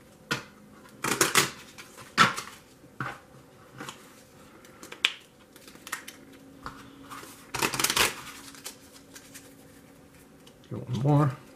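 A pile of game cards being shuffled, several separate bursts of crisp riffling and flicking spread over the stretch, with quieter handling between and a faint room hum beneath.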